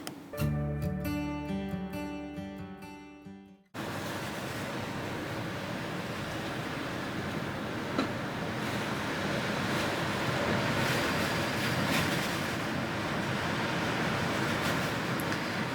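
Steady, dense roar of heavy rain with gusting wind, continuous and loud, after a few seconds of music that cuts off abruptly.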